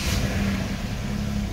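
A car engine runs at a steady low idle after starting, a continuous mid-level rumble with no voices over it.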